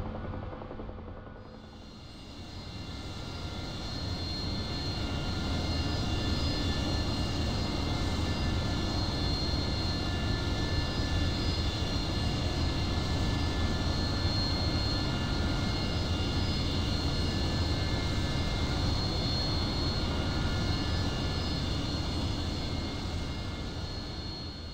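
A Harrier jet's engine in the DCS World flight game gives a steady, loud roar with a high whine on top. The sound rises over the first few seconds, then holds constant with no voices.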